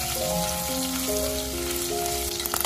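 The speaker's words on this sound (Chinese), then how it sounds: "排骨这样煎炒一下，不仅可以去腥，还可以炒出香味" Pork ribs sizzle in a wok over low heat, a steady crackling fry with a few sharper pops near the end, while some tonal background music plays along.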